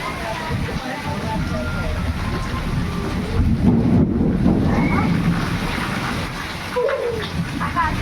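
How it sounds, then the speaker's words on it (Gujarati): A heavy rainstorm hisses steadily over a farm's onion field while a deep, loud thunder rumble rolls through the middle, and someone talks over the downpour. "કડાકા ભડાકા સાથે જો વીજળી થાય જોરદાર"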